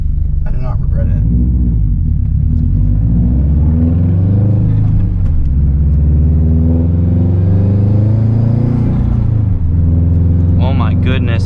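A 2009 Subaru WRX engine pulls hard while driving, rising and falling in pitch through repeated revs and gear changes, loud and close from inside the car, with a short burst of talk near the end.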